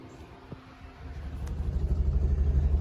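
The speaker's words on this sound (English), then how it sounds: "we're going to take it for a test drive and see what it did." A VW Bus with steering slop rumbles along a road on a test drive, its engine droning low and steady, growing louder and fuller after the first second as it picks up speed.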